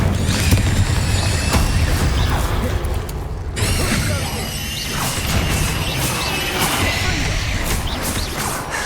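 Incendio fire spell cast in the video game Hogwarts Legacy, a loud burst of crackling, whooshing flame amid dense combat clatter and crashes, with a sharp break partway through before the fiery roar resumes.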